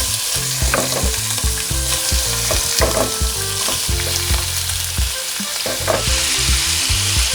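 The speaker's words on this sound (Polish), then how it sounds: "krewetki smażymy krótko, gdzieś około 2 minuty" Shrimp sizzle and crackle loudly in a hot pan, with occasional scraping and clinks as they're stirred.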